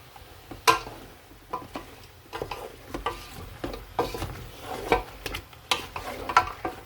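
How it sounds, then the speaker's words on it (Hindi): Spoon stirring spiced mutton paye in a pot: soft scraping and occasional clinks against the metal at an irregular pace, close but fairly quiet, with a faint sizzle underneath and no speech. "अब मैं इसको मिक्स करूँगा"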